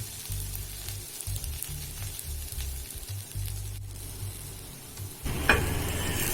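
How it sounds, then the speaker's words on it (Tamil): Vegetable uthappam sizzles steadily on a hot griddle, with a continuous close frying hiss, a low background hum and a brief louder spatter near the end. "ஒரு நிமிஷம் இந்த மாதிரி வேக விடலாம்."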